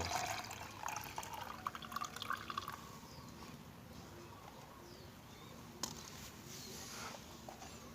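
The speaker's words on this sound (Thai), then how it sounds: "เทน้ำลงแก้วเลยนะครับ ลงขวดพลาสติกของเรา" Water is poured into a plastic bottle for rooting basil cuttings, a faint trickling and splashing that is strongest at first and then settles into a soft, quiet flow.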